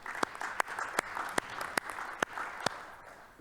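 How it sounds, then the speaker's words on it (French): A small group at a municipal council meeting gives light, sparse applause to welcome a new council member. Roughly eight crisp, distinct claps stand out over a faint patter, close and fairly quiet, then it fades. "Et on peut aussi lui souhaiter la bienvenue et l'applaudir."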